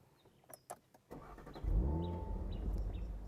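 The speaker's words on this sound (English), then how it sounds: "Really nice V6 sound" A 2025 Audi RS4 Avant's V6 engine cranks and fires up after a couple of quiet clicks, settling into a loud, deep, smooth idle with a bassy rumble, close by and with no talking.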